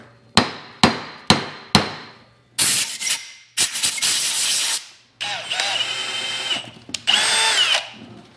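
Pneumatic impact tool hammering out bent studs from a Jeep axle: four quick sharp rattling bursts, then longer loud buzzing runs with hissing air between them, close and alone.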